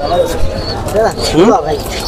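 Pigeons at a pigeon market in Bangladesh give a few short rolling coos, close and clear, among voices of people talking nearby.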